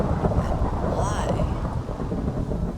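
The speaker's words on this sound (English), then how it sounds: "is it always raining?" Minecraft thunderstorm with steady heavy rain hiss and a low rumbling roll of thunder filling the short stretch, no voices over it.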